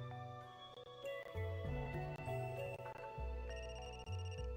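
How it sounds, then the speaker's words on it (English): A ringing phone in the video game Another Code: Recollection, a melodic electronic ringtone of stepped tones over a sustained low backing, steady and clear with no talking. "That's my phone."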